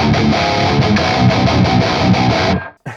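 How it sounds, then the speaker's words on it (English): An electric guitar runs through a Tube 9 tube-screamer-style overdrive pedal into two blended amps in Overloud TH-U, giving loud, heavy distorted playing that stops suddenly before the end. "we're boosting both amps with the same overdrive pedal, and that is the Tube 9 distortion"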